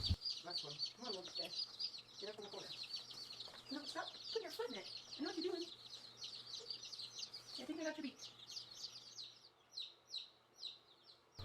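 Many egg-laying chicken chicks in a brooder peep and chirp high and fast in a busy chorus, with a person speaking softly underneath at times.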